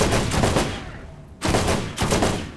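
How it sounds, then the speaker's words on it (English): Electric gun firing in a video game, two loud crackling bursts of rapid shots separated by a brief pause, close and dominant with no talking. "Whoever shot that electric gun, y'all need to stop."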